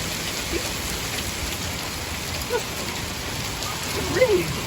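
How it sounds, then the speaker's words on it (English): Steady rain falls during a thunderstorm in Salina, Kansas, a dense even hiss of drops close by, with a few faint soft thumps and a brief higher sound near the end. "It's raining."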